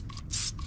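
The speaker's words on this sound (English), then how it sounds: "let's spray it on now just to see the reaction" Wheel cleaner or iron decontamination spray is pumped onto car wheels in two or three short hissing bursts from a trigger bottle, with the middle burst the longest. The spray is close and moderately loud.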